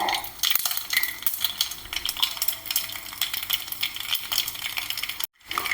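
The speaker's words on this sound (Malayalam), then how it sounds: "രണ്ട് സ്പൂൺ കടുക് കേട്ടോ കടുകൊന്ന് പൊട്ടട്ടെ" Mustard seeds splutter and crackle in hot sesame oil in a pan, a dense, continuous sizzle of tiny pops at moderate volume with no talking.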